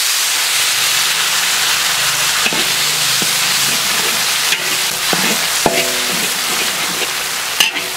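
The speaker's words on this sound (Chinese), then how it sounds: "我们把这个剁椒和那个姜一起下下去" Steady loud hiss of homemade chopped chili and ginger frying in oil for stir-fried loach, with a few scattered metallic scrapes and taps of a utensil.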